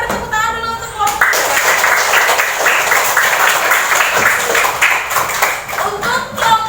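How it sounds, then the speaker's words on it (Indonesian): Classroom applause for a student group, a sustained burst of many hands clapping after a brief voice, with children's voices audible beneath the clapping throughout. "Kita beri tepuk tangan dulu untuk kelompok."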